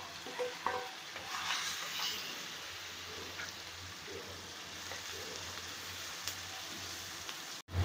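Finely chopped onion and cumin seeds frying in a pan, a steady crackling sizzle with occasional stirring scrapes, ending in a sharp clatter.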